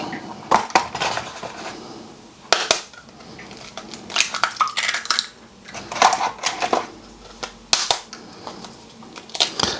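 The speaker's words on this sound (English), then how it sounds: "I've got 4 large eggs here, which I'm going to crack" Four large eggs cracked into a bowl for a frittata, giving a series of sharp shell taps and clinks against the bowl at an uneven pace, close and fairly loud.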